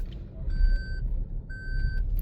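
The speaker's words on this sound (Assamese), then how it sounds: "এই চাউণ্ডটো ন ছিট বেল্ট নলগালৈকে পপ পপ মাৰিয়ে থাকিব" A car's seat belt warning chime sounds twice, each an evenly spaced, sustained electronic tone about half a second long, moderately loud over a low background rumble.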